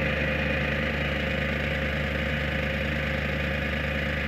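A tool and cutter grinder wheel spins up and runs at speed, giving a steady, continuous motor hum with a constant low drone and even broadband whir, close and unbroken with no talking.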